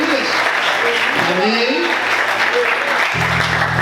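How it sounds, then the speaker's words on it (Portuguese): Applause from a congregation during a church service, a steady clatter of clapping that fills the room while a voice speaks over it and a low sustained tone enters near the end. "Você pode aplaudir Jesus mais forte, aleluia."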